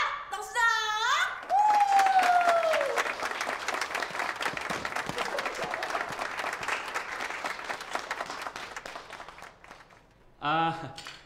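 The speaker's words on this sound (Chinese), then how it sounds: "我们以最最最热烈的掌声来欢迎我们的赵董事长" Warm, sustained applause from a crowd at a company reception welcoming the chairman to the stage, a dense steady roar of clapping lasting several seconds, with a voice speaking briefly before it and again as it dies down.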